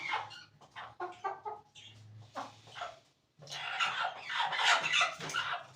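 Aseel hens clucking as they pester a broody hen: a run of close, irregular clucks and squawks, a brief pause, then a louder burst of agitated squawking.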